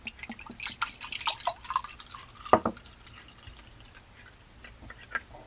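Trader Joe's pink lemonade is poured into a non-glass cup, giving a brief splashing trickle with scattered drips, one louder splash in the middle, then quieter sparse drips.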